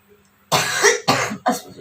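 A person coughs three times in close succession, loud and close, with the first cough longest and the next two short and sharp.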